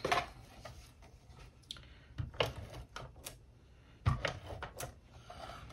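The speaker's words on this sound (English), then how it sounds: "I'm actually going to trim this banner down just a little bit" A paper trimmer cuts down a paper banner for a scrapbook kit, giving a few separate quiet slicing and clicking sounds with short pauses, close by, with no talking.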